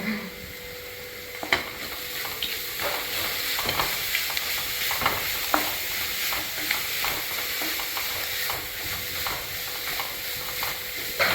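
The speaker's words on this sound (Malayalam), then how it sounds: "ഒരു പച്ചമണല പോകുന്നവരെ നന്നായിട്ടൊന്ന് ഇളക്കി കൊടുക്കുക" Ground coconut paste being stirred in a frying pan while it sizzles, for a drumstick-leaf thoran: a steady frying hiss with regular scraping strokes of a spatula throughout, fairly close, with no talking.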